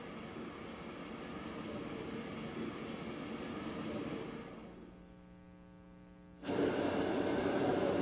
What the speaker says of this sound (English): both mixers are running at an input power of 8 watts